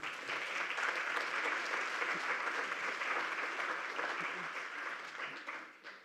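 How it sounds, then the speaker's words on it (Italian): A room of attendees at a Huntington's disease meeting claps for the families present, steady, even applause sustained for several seconds before fading out. "un applauso a tutte le famiglie qua presenti oggi"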